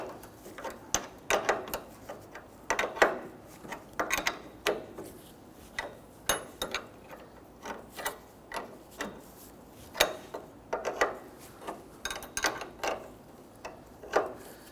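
A nut is tightened onto a sway bar end link on a Nissan Frontier, with repeated rhythmic ratcheting clicks and metallic ticks in short bursts, close up and without talk.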